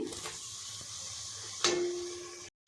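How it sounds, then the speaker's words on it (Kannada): Tomatoes tossed onto browned onions in a frying pan bring a steady close sizzle, with a sharp metallic clank and louder hiss partway through before the sound cuts off abruptly. "ಈಗ 2 ಟೊಮೊಟೊನ ಹಾಕ್ತಾಯಿದ್ದೀನಿ."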